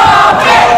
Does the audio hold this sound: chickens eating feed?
no